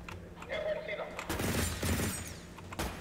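Shard rifle fired in the sci-fi shooter ADACA, a dense burst of loud gunfire crashing in after a quieter stretch, with rapid repeated blasts over a rumbling tail.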